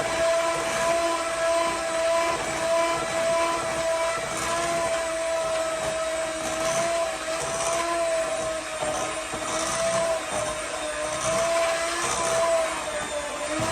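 An electric mixer beats cookie dough for muddy buddy cookies, a steady, close, whirring motor drone holding an even pitch for the whole stretch, with no talking.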